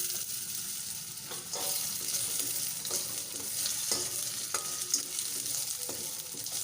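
Potatoes sizzle and fry in a hot pan for a vegetarian green banana dish, with a steady hiss broken by several sharp scrapes of stirring, close and alone.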